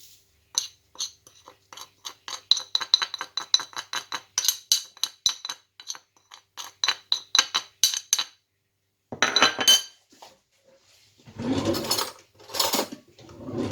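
Minced meat is mixed with spices in a bowl, heard as quick rhythmic clinking and scraping strokes in bursts, then a pause followed by a few longer, rougher scrapes near the end.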